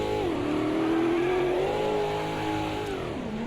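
A stock car engine in AMS2 revs steadily under throttle while turning right, a loud, continuous mid-pitched drone whose pitch drops and rises briefly, with no talk over it.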